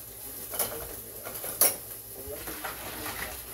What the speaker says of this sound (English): And I'll give it a little stir.